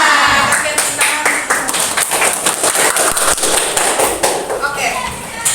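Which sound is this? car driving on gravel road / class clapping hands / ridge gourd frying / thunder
class clapping hands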